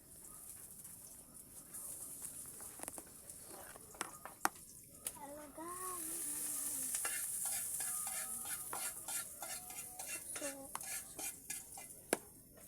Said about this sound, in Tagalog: gigisa ko ng puso